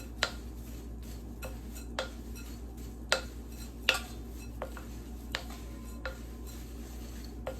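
A spoon scrapes and taps against a bowl while granola's wet ingredients, maple syrup and sweetener, are mixed into the dry ones, a faint rhythmic series of clinks over quiet background hiss.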